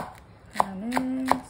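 A knife cuts through an ingredient on a cutting board in three quick, crisp taps, close and clear against a quiet kitchen background.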